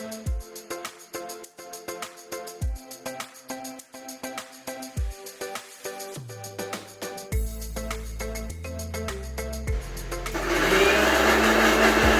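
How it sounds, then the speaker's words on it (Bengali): A kitchen mixer grinder blends ginger, garlic, raw red chillies and a little tomato into a paste, giving a loud, rising whir in the last couple of seconds over background music. "আদা রসুন কাঁচা লঙ্কাকে মিক্সিতে আমি পেস্ট করে নেবো"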